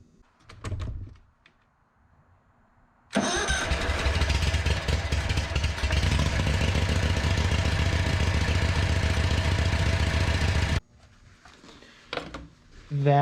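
A John Deere 345 lawn tractor engine fires up after a flywheel repair and runs loudly and steadily for several seconds before cutting off, with brief clatter before and after.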